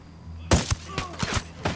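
Sharp rifle shots crack out in Ghost Recon Wildlands, with a loud first burst followed by several spaced, punchy reports that echo close by within a couple of seconds.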